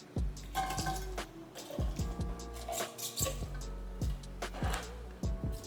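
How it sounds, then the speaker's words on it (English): Four cans of drained, rinsed canned green beans are dumped into a baking dish, giving wet, squishy plops and thuds in quick clusters, close and fairly loud, with no talking. "we're just gonna dump our 4 cans of green beans into our dish"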